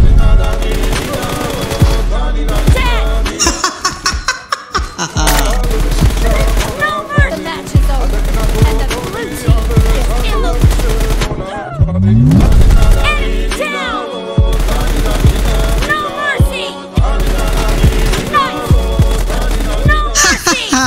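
Rapid automatic gunfire from a PUBG team deathmatch plays loud and close in repeated bursts, broken by brief lulls, and continues densely throughout.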